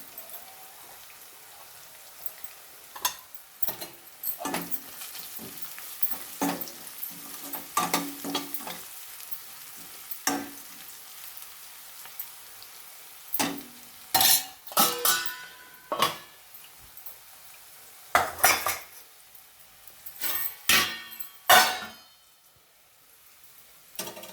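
Vegetables and turmeric fry in hot oil while being stirred, a soft crackling sizzle broken by frequent sharp spatula scrapes and clatters against the pan, irregular and close.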